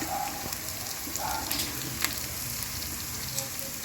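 Two spoons of ginger garlic paste fry in hot oil with a faint, steady crackling sizzle throughout, soft and close.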